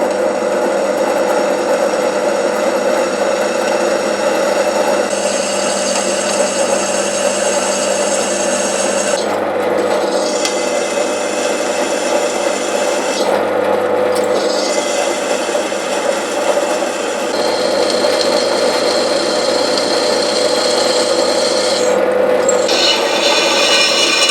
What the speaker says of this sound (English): we've got to drill all these out to 6mm and then drill 2 of them out to 10mm